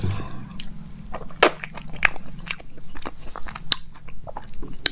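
Close, crunchy bites and chewing of a home-cooked Indian meal with pickle, a dense run of sharp crisp crunches and wet mastication sounds repeating steadily, with no talk over them.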